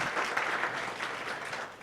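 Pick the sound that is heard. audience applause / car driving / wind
audience applause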